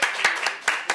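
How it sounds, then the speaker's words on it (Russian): An audience claps for a guest, with a few sharp, separate handclaps at an uneven rhythm inside one second. The claps are close and fairly loud, and no one speaks. "давайте похлопаем"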